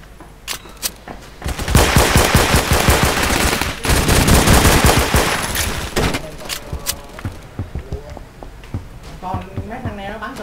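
Gunfire in Roblox Phantom Forces, including an Intervention sniper rifle, sounds as loud rapid cracks and bursts that build into dense volleys, then thin out into scattered shots.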